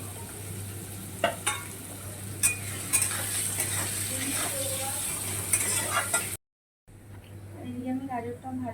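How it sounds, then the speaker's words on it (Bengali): Carrots frying in hot oil, a steady sizzle and stir with occasional utensil clinks, someone talking over it and a brief cut near the end. "গাজরটা দিয়ে ভাজা আমি"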